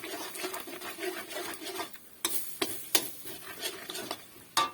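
Egg fried rice is stirred and tossed in a pan, with quick repeated scraping and clinking of a utensil against the metal and a few sharper knocks near the end, close and fairly quiet.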